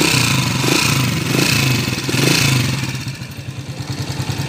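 Honda TMX155 motorcycle engine, converted to CDI, revving in repeated surges with a rough, rattling clatter from a noisy timing gear, then settling into a loose, rapid idle putter close by.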